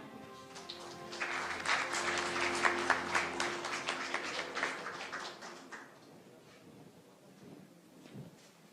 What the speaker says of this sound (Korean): 여러분 다시 한번 박수 부탁드리겠습니다